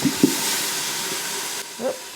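Steam hisses steadily from an Instant Pot pressure cooker while red lentil soup cooks, a close, even rush that cuts off abruptly near the end, with a couple of soft kitchen knocks.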